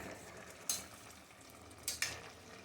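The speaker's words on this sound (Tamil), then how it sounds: "இதை லைட்டாக கிளறி விடுங்க" A paneer pulao is stirred in a pressure cooker pot, with a few short scraping clinks over a soft background simmer and sizzle; three brief bright strokes stand out against the quiet bubbling, with no talking.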